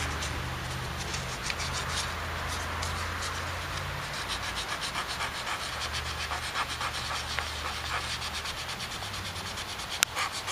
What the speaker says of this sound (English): and then hit a little more sanding on here